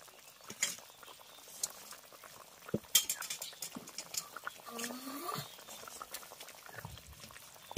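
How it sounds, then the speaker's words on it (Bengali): Fish curry bubbling in a pot, a soft busy patter of popping bubbles and gentle sizzle close by, with faint scattered clicks and low background murmur. "মাছের ঝোল খুব ভালোভাবে ফুটে গেছে"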